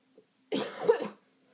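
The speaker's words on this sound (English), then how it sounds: "I have to cough" A single person coughs once, a short rough burst up close, with near silence before and after.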